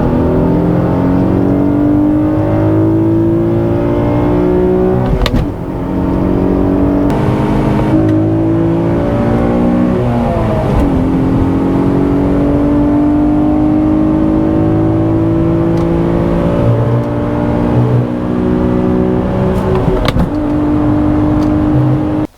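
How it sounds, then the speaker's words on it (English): An Infiniti G37s with a V6 and manual gearbox revs hard through the gears, its loud engine note climbing steadily and dropping at each of several shifts, heard continuously from inside the car. "it's a very rewarding feeling rowing your own gears with this V6 powering it"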